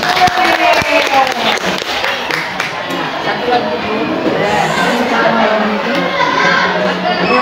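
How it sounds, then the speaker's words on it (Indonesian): Audience applause and clapping at a school gathering at a junior high school in Binjai, a dense, steady crowd sound that fills the whole stretch with some voices mixed in. "Mari kita beri tepuk tangan."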